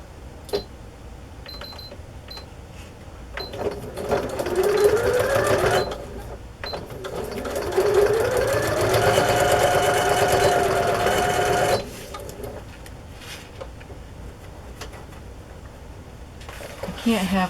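A sewing machine runs in two bursts of rapid mechanical stitching on card journal pages, a few seconds each, separated by quieter pauses with small clicks.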